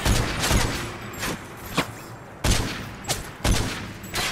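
Enemy gunfire rattles in the first-person shooter Call of Duty: Modern Warfare 3, with repeated bursts and single cracks at a moderate distance in an irregular rhythm, without speech.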